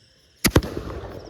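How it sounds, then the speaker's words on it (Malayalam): Firecrackers set off during Vishu celebrations: two sharp, loud bangs close together, followed by a fading crackling tail. "പടക്കം പൊട്ടിക്കാൻ നോക്കുകയാണോ?"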